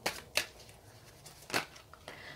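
Tarot cards being shuffled by hand, a few quick, soft riffling bursts separated by short pauses, close and fairly quiet, with no talking.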